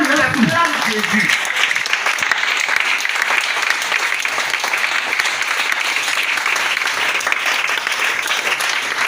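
A church congregation claps and cheers for Jesus, dense sustained applause filling the whole stretch, loud and steady, with a brief voice at the very start.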